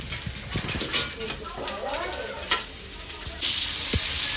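A vegetable fry sizzling on a griddle (tava) in a home kitchen, a steady frying hiss with occasional pan and utensil clinks, a voice faintly present in the background.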